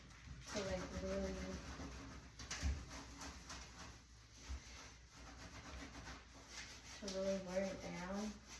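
Steady, close scrubbing of a surface, worn down in repeated rubbing strokes that carry on throughout, with a couple of short voiced bursts breaking in near the start and the end.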